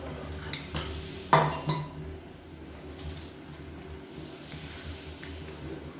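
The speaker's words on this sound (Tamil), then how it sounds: "உப்பு சேர்த்து கலந்துட்டு இப்போ அரிசியை சேர்த்துக்கலாம்." Soaked jeera samba rice tips into a pot of salted water, with a few clinks of a utensil and vessel, one sharper knock in the middle, then a soft ongoing rustle and simmer.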